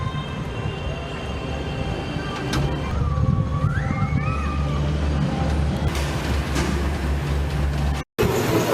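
The Cheetah Hunt roller coaster runs at Busch Gardens Tampa, its train making a steady rumbling roar with a rising whine partway through. The ride sounds fairly close and continuous before cutting off abruptly near the end.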